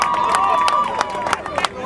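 A crowd claps in applause at a carnival float award ceremony in Torregrotta, a dense patter of hands under a voice talking loudly over it, with a few sharper claps standing out.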